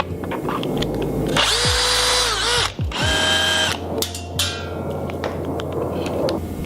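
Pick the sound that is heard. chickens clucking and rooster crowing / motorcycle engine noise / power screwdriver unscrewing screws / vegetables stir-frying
power screwdriver unscrewing screws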